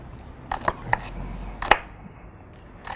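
A knife slices chili peppers for a Thai chili-salt stir-fry, giving a few crisp, irregular taps up close with nothing else heard.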